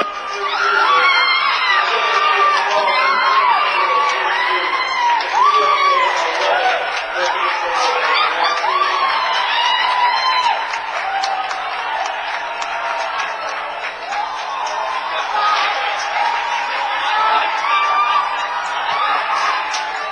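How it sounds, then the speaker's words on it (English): A crowd roars and screams steadily after the Chesterfield Falcons win the 2008 Tier 2 under-18 national hockey championship, a dense, loud wall of cheering and whoops that swells and dips for the whole stretch, with voices talking underneath. "you heard the crowd next to us"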